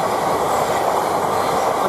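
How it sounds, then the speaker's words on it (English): A Greater Anglia train passing through Elsenham railway station, a loud, close, continuous rumble and roar of wheels on rails with a broad steady wash of noise and faint clatter throughout. "Now we've got a Greater Anglia train coming through here."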